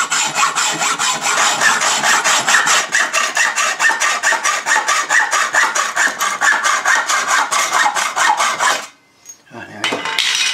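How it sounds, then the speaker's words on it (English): A hacksaw cuts through a steel support bolt with a fast, even run of close, loud rasping strokes, stopping near the end before a brief final scrape. "Far easier just to run hacksaw for it."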